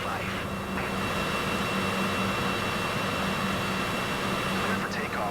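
Cessna Citation CJ4 jet engines spooling up for takeoff in Flight Simulator 2024, a steady broadband roar holding at constant loudness throughout, with faint voices briefly audible underneath.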